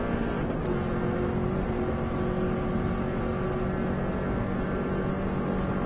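A Subaru car's engine accelerating hard on an Isle of Man road lap, a steady loud drone inside the car that holds throughout with no talking.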